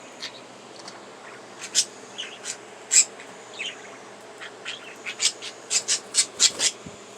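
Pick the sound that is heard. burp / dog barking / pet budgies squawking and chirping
pet budgies squawking and chirping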